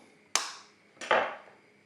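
Two eggs are cracked sharply against a bowl, each a crisp single tap followed by a short fading rattle of shell, about three-quarters of a second apart, in a quiet kitchen.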